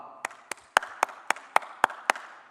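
Church congregation clapping together in a steady rhythm: nine sharp, evenly spaced claps, close and clear, with no talking.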